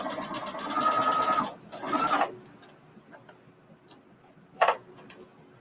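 A sewing machine stitching a seam runs in two close bursts of rapid, rhythmic needle clatter, then falls quiet except for a few faint ticks and a short final whir.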